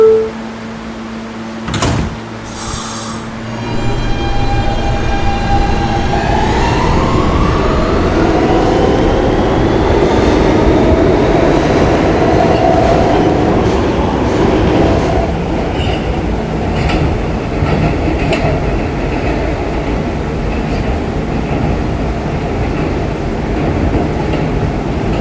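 An R160B Siemens E subway train in a Roblox game pulls away toward Union Turnpike, its electric motors whining upward in pitch under a continuous loud rumble of wheels on rails.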